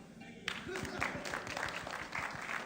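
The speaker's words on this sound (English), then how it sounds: "One more round? Clap hand." Audience clapping at a business storytelling conference, moderate and steady over a short stretch, with a low background murmur.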